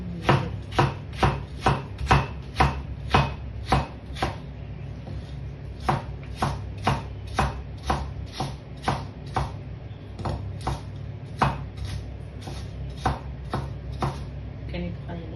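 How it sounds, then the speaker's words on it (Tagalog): A knife slices food thinly on a cutting board in a steady run of crisp, evenly spaced chops, about one or two per second with a short pause midway, close and clear over a low background hum. "Tapos, hiwain lang natin siya ng maninipis."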